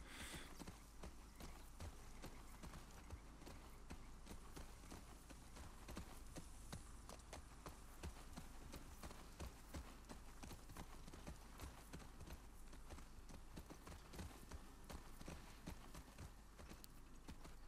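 Steady clip-clop of horse hooves at a brisk, even pace, continuous throughout against a dense game soundscape from The Last of Us Part II.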